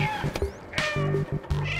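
A cat meows in the video game Stray at a cyberpunk club party, several short close meows over pulsing electronic music with a thumping beat.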